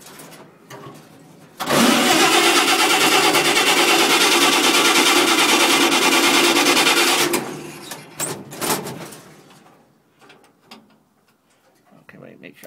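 A COE truck engine cranks and catches, then runs loud and steady for about six seconds before cutting off, leaving a few clunks and a quiet stretch after.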